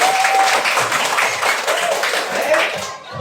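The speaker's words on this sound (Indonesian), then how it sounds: "tepuk tangan dulu" An audience in a school classroom applauds steadily with dense, even clapping that holds throughout before easing off at the end.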